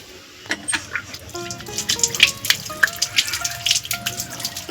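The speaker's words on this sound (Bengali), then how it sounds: "ইস আমার হাত নোংরা হয়ে গেল ধুয়ে নি" Tap water runs and splashes as hands are washed at a sink, with scattered drips and irregular splatters close by and no talking.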